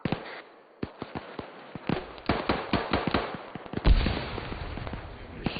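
Gunshots crack out to the east during an airsoft or milsim game, a scattered string of sharp reports at varying distances with irregular spacing, some louder and closer, others faint and far.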